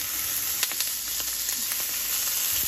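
Pork belly cubes sizzle in a hot pan with a close, steady hiss, dotted with sharp spitting pops and a few light clicks, with no voices over it.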